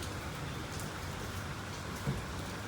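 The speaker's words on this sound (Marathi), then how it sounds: "8 दिवस इकडे खूप पाऊस चालू आहे" Heavy rain pouring down steadily in a Maharashtra village at morning, a dense continuous hiss with a faint low rumble and one small bump, no voices.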